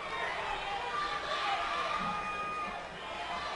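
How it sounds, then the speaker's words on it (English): Crowd at a high school state baseball championship semifinal rising in a brief excited murmur and cheer, a diffuse wash of many voices swelling and easing over a few seconds. "Crowd gets a little excited."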